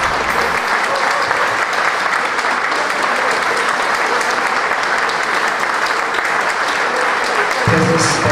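Loud, dense applause from an audience celebrating the Unia Leszno speedway team, Polish champions of 2010, sustained and even throughout with a slight lift at the end.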